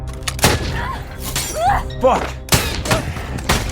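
Gunfire in an action film: several sharp, loud shots and impacts burst out in quick succession, mixed with a shouted voice and other action sounds.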